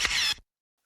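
A single crisp camera shutter click, bright and close, ending abruptly into silence.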